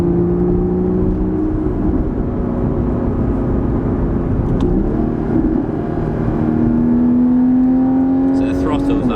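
A Porsche 981 Cayman S builds a close, steady engine whine under acceleration, with tone shifts where it changes gear, and occupants talk over it inside the cabin.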